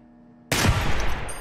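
A single sharp, punchy gunshot from the VR shooting game Receiver 2, a sudden loud crack after a quiet hum, followed by a short decaying tail.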